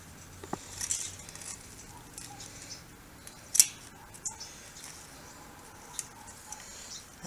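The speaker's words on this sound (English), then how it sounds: "Okay, cut the wire longer this time." Heavy-duty twisted wire being cut while a dog kennel is turned into a greenhouse: a few sharp, isolated snips and clicks spaced out over a quiet background.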